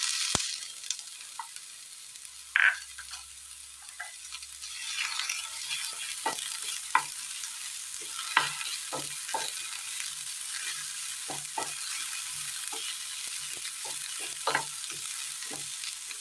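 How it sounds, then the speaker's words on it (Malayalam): Chopped tomatoes drop into shallots frying in a pan, giving a soft, steady sizzle with repeated scraping and clacking strokes of a spoon stirring, close and fairly quiet, with no talking. "ഇതിലേക്ക് തക്കാളി ചെറുതായി അരിഞ്ഞത് ഇട്ട് കൊടുക്കാം"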